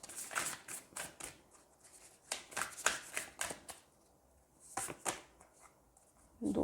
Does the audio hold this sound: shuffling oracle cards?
yes